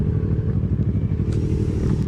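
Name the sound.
motorcycle riding in a played video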